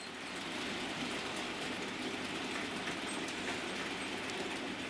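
A Class 85 E3056 model electric locomotive runs along its track with a steady, even rolling whir and faint rhythmic rail clicks throughout, alone and without talk.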